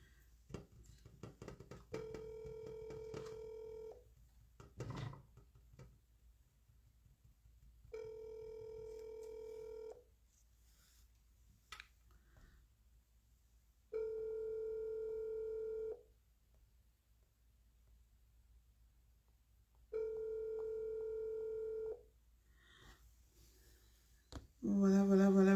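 Phone call placed to someone who does not pick up: a steady ringback tone repeats in long regular bursts, four times with silent gaps between, then a dialing tone sounds at the end, with no talking.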